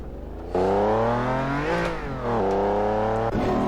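In the racing game Assetto Corsa, a Lamborghini LM002 engine revs up sharply, drops back and rises again in loud repeated surges, heard alone.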